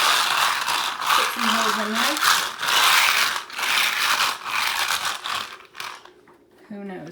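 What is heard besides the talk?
wallpaper scorer tool scoring wallpaper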